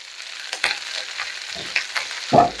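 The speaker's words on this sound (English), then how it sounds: "Listen to that sizzle." Corned beef hash sizzles and crackles in a hot cast iron pan, with scraping and tapping of a utensil stirring it, one louder scrape near the end.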